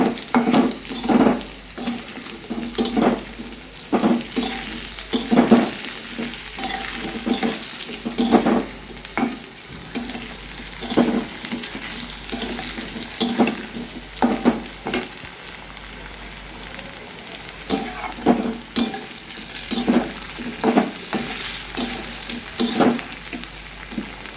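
Rice, nuts and spices frying in a pan for a fish-head muri ghonto, with a loud continuous sizzle and repeated metal spatula scrapes and clanks against the pan at an uneven stirring rhythm, without talk.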